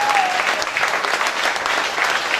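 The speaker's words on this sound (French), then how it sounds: "Nous applaudissons le Seigneur comme des vivants qui applaudissent un Jésus vivant." A church congregation at a revival service in Douala claps loudly and continuously, a dense, sustained wash of many hands applauding together with a faint voice underneath.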